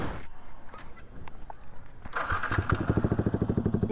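A motorcycle fitted with an SC Project aftermarket exhaust starts up and settles into a loud, close, pulsing idle after a few seconds of scraping and handling noise, with no talking.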